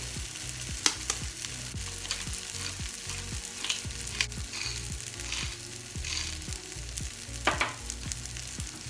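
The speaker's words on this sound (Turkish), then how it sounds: "Burada güzelce çırpıyoruz." Something is whisked briskly in a bowl, producing a fast, regular series of scraping strokes that repeat steadily at close range with no talking.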